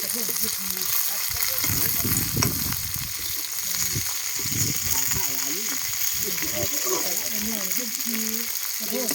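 Oil sizzles and crackles steadily as edible insects (maeng ji son) fry in a pan, with someone talking over it throughout.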